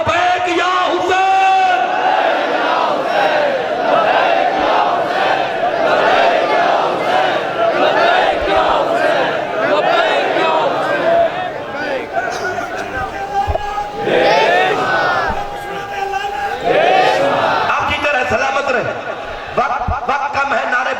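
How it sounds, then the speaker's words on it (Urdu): A large crowd at a Muharram mourning gathering (majlis) on 10 Muharram in Burewala chants loudly in unison with raised hands, many voices merging into a continuous, near roar that lasts the whole stretch. "ہاتھ بلند کر کے 5 مرتبہ، لبیک یا حسین۔"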